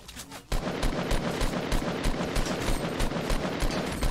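Loud, rapid automatic gunfire in Fortnite bursts in after a brief pause, a sustained rattling stream of shots close by.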